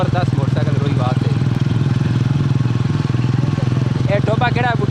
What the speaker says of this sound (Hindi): ये जी 125 मोटरसाइकिल है, 2021 मॉडल।